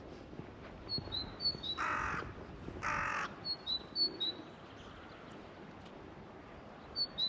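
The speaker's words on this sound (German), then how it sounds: "Irgendwelche Krähen hier rum." Crows cawing outdoors along a rural walking route in Latvia: several short harsh caws come in quick runs, faint and fairly distant, over a quiet background hiss.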